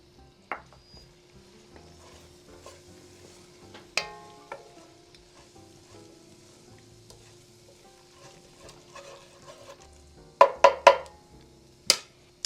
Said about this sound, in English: Let that flour cook a little bit.